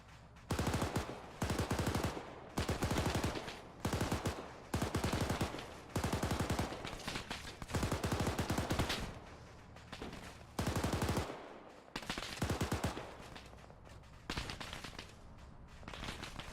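Repeated bursts of automatic gunfire in an Arma 3 firefight during an ambush on a US convoy, loud and close, coming in short volleys separated by brief pauses across the whole stretch.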